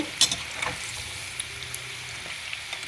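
Okra pieces fry in hot oil in a pan for a crispy kurkure bhindi fry, giving a steady, close hiss of sizzling with a few faint clinks of stirring.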